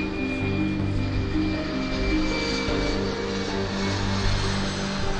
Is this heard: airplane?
yes